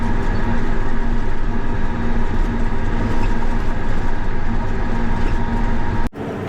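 Tractors drag racing down a highway produce a loud, steady engine drone with a low rumble, holding constant for about six seconds before a sudden brief drop.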